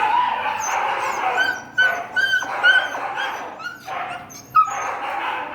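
Several dogs bark and yip in quick, irregular bursts at close range, with whimpering notes between barks and no other sound competing.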